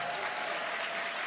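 Audience applause at a corporate achievers' day event, a steady wash of many hands clapping at moderate level, brief and unbroken.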